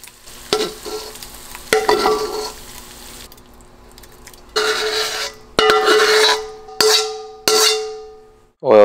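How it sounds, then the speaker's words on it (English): Eggplant sizzles and fries in an oiled pan for Sichuan-style yu xiang eggplant while a spatula stirs it, giving repeated bursts of close, loud frying and scraping between quieter gaps. "Actively stir to prevent stickage."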